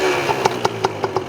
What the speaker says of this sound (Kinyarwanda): Urumva ko moto yacu iri kwaka.